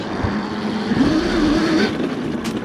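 An electric KTM motocross bike, built on a classic motocross chassis, rides on private terrain with a steady whining motor hum that rises in pitch midway before easing off.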